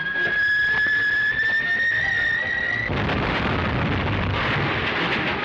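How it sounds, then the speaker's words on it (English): A loud explosion bursts in after a high whistling whine, its broad rumbling roar filling the space and lingering for several seconds in a radio crime drama. "That explosion was directly north of here."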